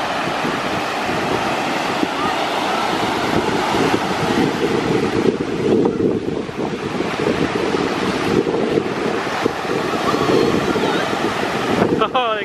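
Ocean waves break and wash up a beach in continuous loud surf, with heavy wind buffeting the microphone throughout.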